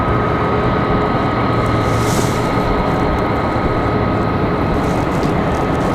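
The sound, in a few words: Copa Airlines jet on final approach at Raleigh-Durham airport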